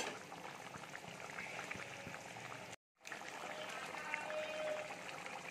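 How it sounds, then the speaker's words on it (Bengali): A mixture of egg and pointed gourd for a pudding simmers in a pan, a soft continuous bubbling hiss with a brief dropout midway, quiet and close. "মিনিট 5 আমি ফুটিয়ে নেব, তারপরে আমার রেডি হয়ে যাবে"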